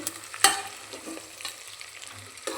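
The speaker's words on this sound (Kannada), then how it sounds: "ವೆಜಿಟೇಬಲ್ ಫ್ರೈ ಆಗ್ತಾಯಿದೆ, ಕಾಣಿಸ್ತಾ ಇದೆಯಲ್ಲ ಗೈಸ್, ವೆಜಿಟೇಬಲ್ಸ್ ಎಲ್ಲ ಫ್ರೈ ಆಗ್ತಾ ಇರೋದು" Vegetables frying with ginger garlic paste for a vegetable ghee rice, a low steady sizzle with one sharp stirring clatter near the start and a few softer scrapes.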